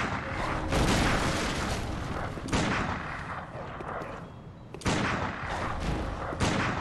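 Rapid bursts of gunfire in Bloodborne, loud and dense, with a few heavier booms standing out, continuing steadily without pause.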